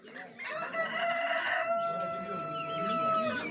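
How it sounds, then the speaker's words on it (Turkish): A village rooster at a Gördes chicken market crows one long, loud cock-a-doodle-doo close by. The call holds a strained tonal note for several seconds over the market's background murmur. "iki tane de yan yana köy horozumuz var"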